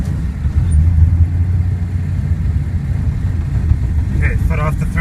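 A car engine held at very low throttle rumbles steadily and close by, deep and even throughout, with a few brief light rattles near the end.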